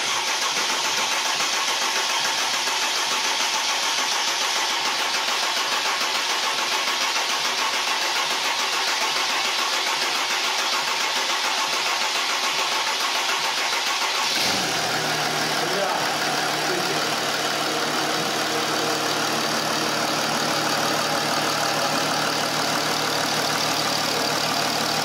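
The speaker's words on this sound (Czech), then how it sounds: "motor máme nastartovaný" A Mercedes G320 CDI W463 OM642 diesel engine cranks and roars to life partway through after repair, then settles into a steady rattling idle, loud and close.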